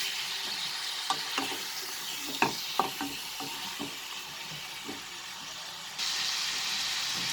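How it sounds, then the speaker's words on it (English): Chicken fries in a pan over a medium flame, giving a steady soft sizzle with scattered clinks and scrapes of stirring, heard close and fairly quiet. "So now first on a medium flame we will fry this chicken"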